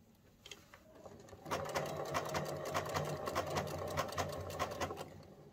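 A sewing machine runs a triple straight stitch on trouser fabric, beginning with a few soft, separate clicks and then settling into a steady, rapid rattle of needle strikes that fades slightly at the end.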